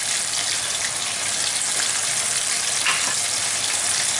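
Grated tomatoes fry in leftover potato oil in a pan for a Valencian baked rice, giving a loud, steady, close-up sizzle that runs continuously with no talk.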